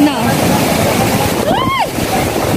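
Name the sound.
floodwater from Typhoon Odette overflowing a spillway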